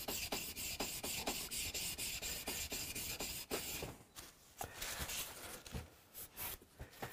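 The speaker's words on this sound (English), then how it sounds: "watching real-time chisel sharpening" A chisel is sharpened with rhythmic back-and-forth rasping strokes, about a dozen even passes followed by slower, irregular scrapes, close and fairly quiet.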